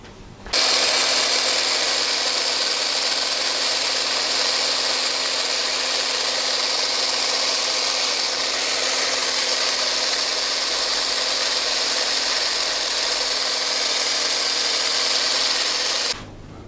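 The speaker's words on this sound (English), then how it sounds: "So we'll get on with the whisking" An electric hand mixer whisks ingredients for a lemon and cream cheese Swiss roll, running as a steady, loud, even whir for about fifteen seconds, starting and stopping abruptly, with no talking.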